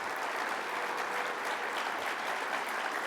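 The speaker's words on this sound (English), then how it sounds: "let's give a round of applause to our conference chairs and vice chairs" Steady, dense applause from a large conference audience fills the space for honouring the conference chairs and vice chairs, an even wash of many hands clapping without a break and no voices rising above it.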